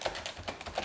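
Keys clatter in quick, uneven bursts on a computer keyboard as someone types with their feet, a close, dry tapping with short pauses between strokes.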